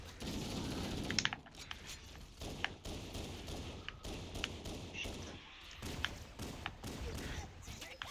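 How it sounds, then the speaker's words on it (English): Assault rifle fire in Halo: Combat Evolved, scattered short bursts of crisp shots and thuds amid game noise, with voices talking faintly at times. "the old shooting sound for the AR sounded funny"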